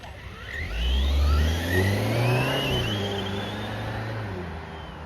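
An Arrma Big Rock RC car with a stock motor races off, its electric motor whirring up loudly and sweeping in pitch as it speeds away and back, a steady close drone across the run.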